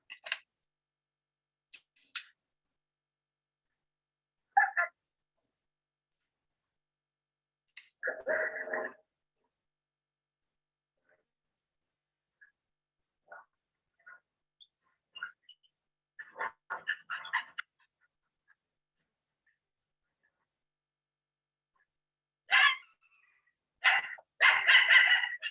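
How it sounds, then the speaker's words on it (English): A coyote confronting a dog gives sharp, scattered distress yelps and barks in short bursts separated by quiet gaps, with a louder cluster of calls near the end, heard outdoors at moderate distance. "you'll also hear this coyote make a distress vocalization"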